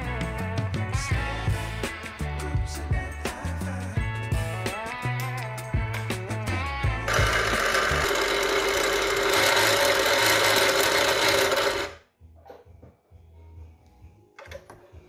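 A home sewing machine runs continuously for several seconds, stitching the seams of a dress skirt, with a dense, even buzzing whir. Tonal music plays before it, then it stops abruptly, leaving quiet.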